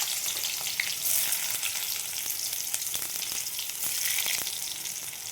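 Onions go into hot oil with spluttering nigella seeds, giving a dense, even sizzle with faint crackles and light stirring, close by and without talk.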